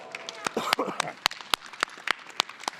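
An audience at a PAX Unplugged 2024 board game Q&A applauding with sparse, uneven claps, fairly soft and close, while a voice talks over them.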